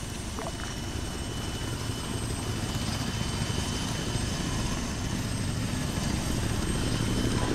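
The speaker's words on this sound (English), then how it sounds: "taking off from runway 14, taxiing through Alpha 1" Aircraft engine noise in the video game Arma 3 as a plane takes off from runway 14, a steady, loud broadband roar with low rumble that holds constant and slightly builds throughout, with no talking.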